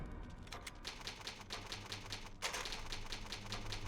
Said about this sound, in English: going into these typewriters, you can save your progress using the ink ribbon